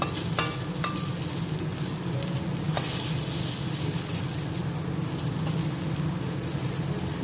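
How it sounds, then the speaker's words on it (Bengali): Eggplant slices fry in hot oil, a continuous close sizzle with a few sharp clicks near the start. "বেগুন ভাজা হচ্ছে"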